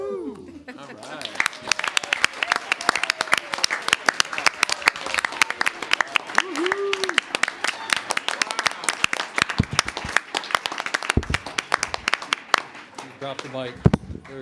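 At a school board meeting honoring fifth grade building leaders, the audience bursts into applause and cheering, sharp individual claps crackling through a lively crowd, with voices and shouts mixed in throughout.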